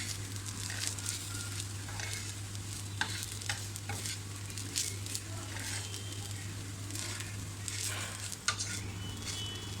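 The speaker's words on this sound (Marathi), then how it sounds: "आता यातच आपण थोडंसं सुकं खोबरं घालूया हे सुद्धा थोडं परतून घेऊया" Dry coconut stir-roasted in a pan: a soft continuous sizzle with repeated scraping strokes of a spatula, over a steady low hum, moderately quiet.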